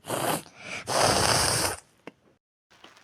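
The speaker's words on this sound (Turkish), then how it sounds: "Burnu sümkürteceğim" A person blows their nose in two forceful, noisy bursts, the second longer, followed by a few faint sniffs and breaths close to the microphone.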